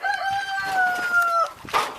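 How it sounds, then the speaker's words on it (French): A second rooster on a small backyard poultry farm crows once, loud and close, in a long sustained call that breaks off into a short squawk, with soft farmyard noise behind and no talking. "Donc là on entend le deuxième coq."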